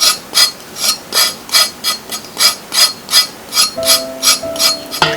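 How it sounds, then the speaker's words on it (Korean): Burdock root skin is scraped with the back of a kitchen knife in about fourteen even, rhythmic rasping strokes, close and loud, with a faint tonal hum joining near the end. "이렇게 우엉 있으시면은 칼등으로 이렇게 살살 긁어 주시면 되세요."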